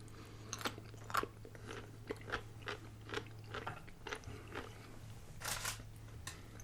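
Spicy pickles bitten and chewed up close at a quiet meal, a string of crisp wet crunches in irregular rhythm with no talking.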